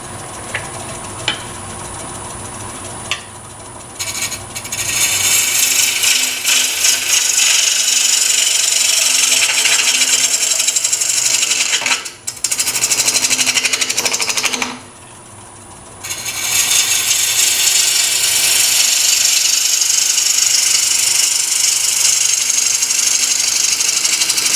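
A bowl gouge shears the outside of a spinning wooden bowl on a lathe, a loud hissing, rasping cut that runs steadily with a couple of short pauses, under the lathe's motor hum.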